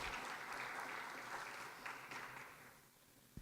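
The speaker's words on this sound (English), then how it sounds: "I think you guys should clap about that." Audience at a startup demo day pitch event applauding, a dense wash of clapping that holds steady for a few seconds, then thins and fades toward the end, heard at a distance without talk over it.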